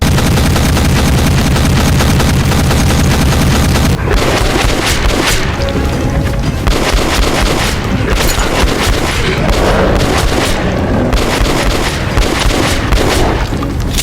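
Shotgun blasts from a drum-fed shotgun in the video game Metro Last Light, fired while fighting mutants, come as loud, heavy booms layered over dense game music and effects, with no talking.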